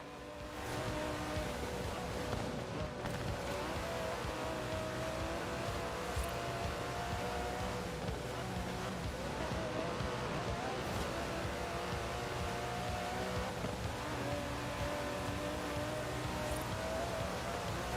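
An Aston Martin DB11 with a 5.2-litre twin-turbo V12 drives in Forza Horizon 4, its engine a constant loud, dense roar sustained throughout with little change in pitch.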